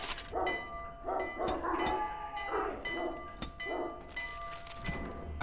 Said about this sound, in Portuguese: A cachorrada tá louca, cara.